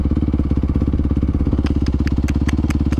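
A supermoto motorcycle engine thrums loud and close while being ridden, with a fast, even pulsing beat and a little mechanical clatter, no voices.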